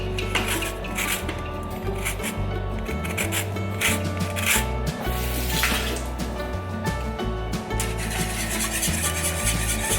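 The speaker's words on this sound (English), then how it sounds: "And then we're gonna add the zest of 1 lemon." A lemon rubbed against a zester or grater for breakfast lemon bars, a continuous close scratchy rasping with quick repeated strokes, loud and steady throughout.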